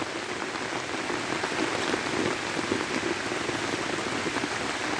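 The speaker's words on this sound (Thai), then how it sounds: "ฝนมันตกเยอะ" Heavy rain pours onto a flooded garden as a steady, dense hiss of drops striking water and surfaces. It stays constant and fairly close throughout, with no voices.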